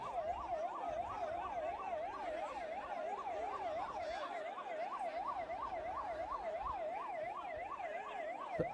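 An ambulance siren wails continuously at a Kadayanallur election campaign rally, a steady rising-and-falling yelp repeating fast and loud through the whole stretch with crowd and road noise beneath, and no talk over it.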